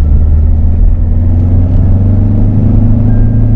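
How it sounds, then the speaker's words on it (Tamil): A 2000cc car engine running with a heavy, steady low rumble and a slight rising rev, loud and close throughout, with no speech over it. "நல்ல பவரா இருக்குடா வண்டி. 2000 சிசினா சும்மாவா?"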